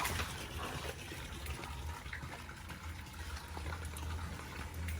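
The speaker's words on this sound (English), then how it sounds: "now we're cleaning the filters" Water splashes and runs continuously as tilapia pond filters are cleaned, a fairly faint, even wash of liquid noise with no clear voices.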